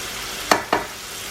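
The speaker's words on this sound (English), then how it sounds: "Nice hot pan, oil, and it is scrambling." Tofu is scrambled in a hot oiled pan, two quick scraping stirs cutting across a low, continuous sizzle.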